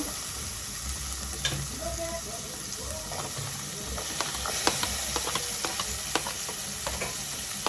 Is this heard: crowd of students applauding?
no